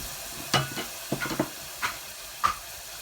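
A spoon scrapes and stirs through a roasted-coconut Kerala chicken curry in a pan, making a few separate soft clatters and swishes with a faint sizzle underneath.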